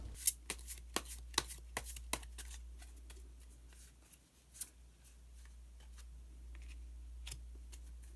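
Tarot cards shuffled by hand in a quiet room, a soft run of crisp ticks and riffles, denser at first and then thinning out, with no voices.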